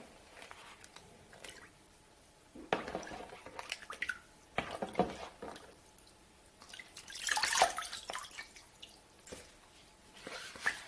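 Phone sealed in a Syncwire waterproof pouch being dipped and moved in water, giving soft sloshing and dripping splashes in a few bursts, close by with no talking.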